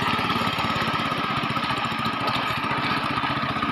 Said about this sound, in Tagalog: Apat na rodelang bakal naman ang nakakabit doon sa makina.